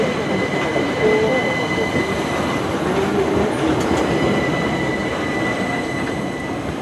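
A Gatwick Class 387 electric train moves through Brighton station with a steady loud rumble, faint wheel squeal and a light clatter over the rails, heard nearby without a break.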